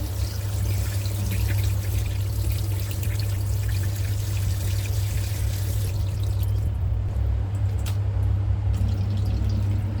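Water pours steadily and continuously from a tap over mackerel scad being washed, splashing and trickling without a break, with a low hum underneath.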